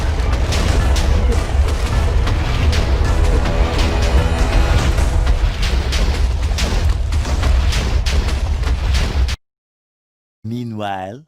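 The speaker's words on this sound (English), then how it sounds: "We're actively running away from an exploding volcano." A volcano erupts in a game, its continuous roaring rumble and rapid booming blasts filling most of the clip loudly before cutting to silence, followed by a brief voice.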